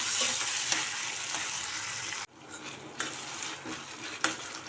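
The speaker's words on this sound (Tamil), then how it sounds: "நல்லா தக்காளி மசிக்கிற அளவுக்கு வதக்கி விட்டுக்கிடலாம்" Tomatoes with salt sizzle and fry in a pan for a Tamil lima bean tamarind curry, a close, steady crackle broken by a short pause and stirring scrapes.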